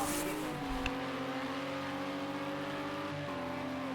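An LMP2 race car engine in a sim racing game, heard on board during an overtake, gives a steady loud droning whine that shifts pitch near the end, with no talk over it.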